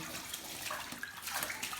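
Water splashes and trickles while a duck is being bathed, a faint continuous wash of running and sloshing water for a couple of seconds with no voices.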